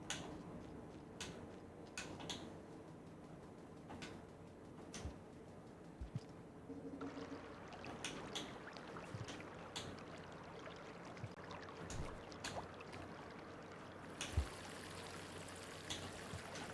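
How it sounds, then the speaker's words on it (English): Rushing water in the video game Rain World, a steady turbulent wash that swells louder partway through, with scattered clicks and splashes over the flow. "That sounds like really angry water."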